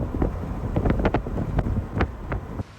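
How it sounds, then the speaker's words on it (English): Wind buffets a microphone in a desert canyon at Arches National Park, a close, continuous gusty rumble with brief louder bursts over about three seconds. "The other thing we have had while we've been here is this just darn wind."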